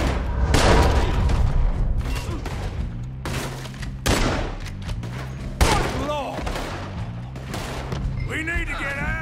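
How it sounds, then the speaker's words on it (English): Gunfire erupts in the Red Dead Redemption 2 video game, a loud fusillade of shots and booms in repeated bursts, with voices shouting amid the shooting. "They're shooting us!"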